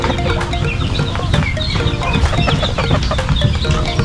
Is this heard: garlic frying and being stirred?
no